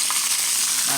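Catfish fries in hot oil with a steady, bright sizzle and crackle that holds evenly through a short moment, with no talking.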